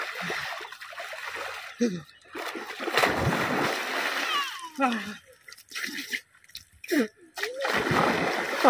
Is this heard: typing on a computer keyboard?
no